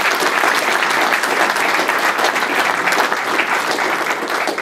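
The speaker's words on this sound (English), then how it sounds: "So y'all give him a round of applause for that." Audience at a Campbell Trophy Summit gives a loud, steady round of applause, dense continuous clapping filling the whole stretch with no voices over it.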